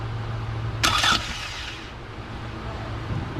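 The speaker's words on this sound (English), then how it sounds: "Okay, it cranks." Toyota Camry engine cranking in a brief burst of starter whirring, heard close against a steady low hum, then falling back.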